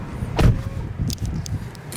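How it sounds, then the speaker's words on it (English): A Tesla Model 3 door releases after its button is pressed, giving a brief electric window whir and a soft mechanical click, close by and without talk. "To open the door, just press the button here. It'll open."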